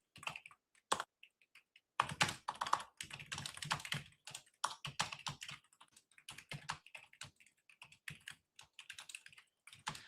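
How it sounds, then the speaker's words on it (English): Aggressive typing on a computer keyboard, fast bursts of sharp clacking keystrokes with brief pauses, close and clear, with no talking. "Let me Google aggressive typing incoming."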